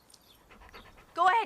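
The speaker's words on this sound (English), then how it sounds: "they start basically calling the poor little dog back and forth" In a scene from the 1992 film Poison Ivy, a small dog pants softly in short quick breaths, then a voice speaks loudly right at the end.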